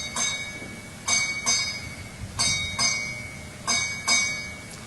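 A ship's bell is struck eight times in spaced pairs at a US Southern Command change-of-command ceremony. The clear metallic rings stand alone over a low background hum.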